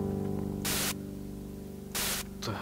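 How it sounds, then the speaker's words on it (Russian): TV static hissing from a television in the Minecraft game: two loud bursts of broadband hiss, each lasting about a quarter second, over a steady low hum, with a weaker hiss returning at the end. "По телеку показывают одни помехи"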